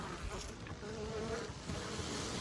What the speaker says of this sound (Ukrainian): Більше тут бджіл, але вони спокійніше знаходяться.